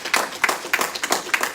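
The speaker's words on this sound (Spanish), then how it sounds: "Demos un aplauso al Señor." A church congregation applauds in a short burst of rhythmic, fairly close clapping, loud sharp claps at an even beat with no talk over them.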